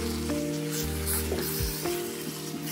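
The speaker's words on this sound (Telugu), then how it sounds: "చికెన్ వేసుకొని బాగా కలుపుకోవాలి." Marinated chicken sizzles in a pan as it is stirred, a steady frying hiss with a few scraping strokes and low tonal hums running underneath.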